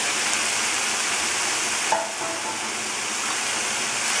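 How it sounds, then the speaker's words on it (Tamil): Broad beans stirred through sautéed onion and tomato in a frying pan, giving a steady, close sizzle with a soft bump of stirring midway, no voices over it. "அவரக்காய் சேர்த்துட்டு நல்லா கிளறி விடுங்க"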